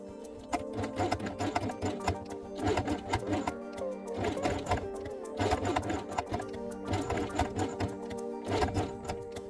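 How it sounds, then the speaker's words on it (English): A sewing machine stitches along the edge of felt with white thread, running in steady rapid mechanical bursts with short pauses between runs, close and moderately loud. "sew along the edge with white thread"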